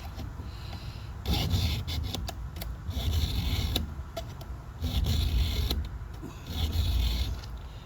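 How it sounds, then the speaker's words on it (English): A hand file rasps across chainsaw teeth in rhythmic back-and-forth strokes, each scrape close and gritty, repeating at an even pace with short gaps between passes. "I like rotating my file a little bit as I'm filing, because I think it cuts a little better"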